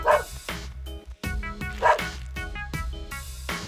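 A small dog yaps in a quick series of loud, close barks, about eight in all, with short gaps between them and no voices over the top.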